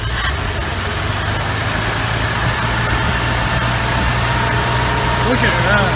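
Idling engine of a 1968 Ford F100 pickup revived after twenty years forgotten in the woods, a steady low rumble running throughout with people talking over it.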